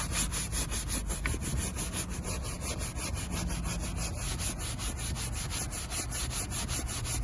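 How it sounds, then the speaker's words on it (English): A soft brush scrubs a leather car seat in fast, steady back-and-forth strokes, a close continuous rasping rhythm with no talking. "Your soft brush is not going to do any damage on your leather, so you can feel free to scrub, put some work into it"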